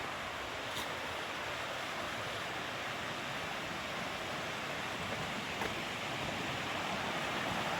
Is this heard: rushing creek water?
yes